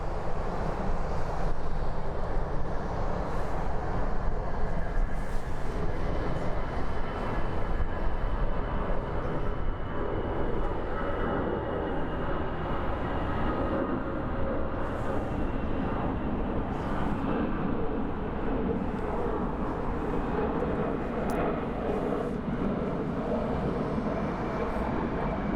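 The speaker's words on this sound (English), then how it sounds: "a Vietnam Airlines 787 -9 Dreamliner headed to Hanoi." A Vietnam Airlines Boeing 787-9 Dreamliner at Frankfurt Airport produces a loud, continuous broadband jet roar that holds steady for the whole stretch with no clear breaks.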